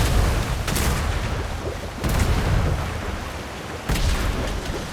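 Ship cannons in a Royal Navy sailing battle in a video game fire at enemy sails, three heavy booms roughly two seconds apart over a constant rumbling din of battle, loud and close.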